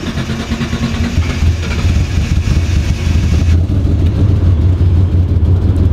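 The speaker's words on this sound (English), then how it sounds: "I'm gonna wait till that gets to the middle, and let's have this idle." A Mitsubishi 3000GT VR4 in poor running condition, one that stalls when the accelerator is released, idles with a deep, steady, rumbling engine drone that stays loud and close throughout, with no talking.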